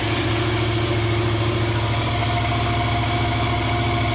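A motorcycle engine idles steadily, a close, constant low throbbing hum with an even pulse and no revving, running alone without speech.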